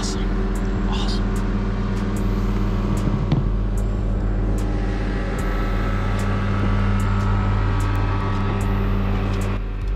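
Heavy motor traffic hums steadily near a local fishing hole on the Pamlico River in winter. The engine drone is loud and constant and close by, with faint higher sounds rising now and then.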